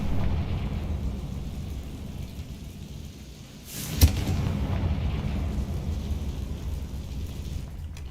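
Confringo blasting spell in Hogwarts Legacy: a single sharp explosive burst in the middle, over a steady low rumble of ambient game noise, with no talking.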